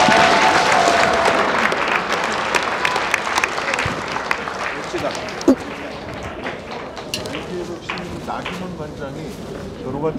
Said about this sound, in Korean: 선수에게 한 번 더 큰 박수 부탁드리겠습니다.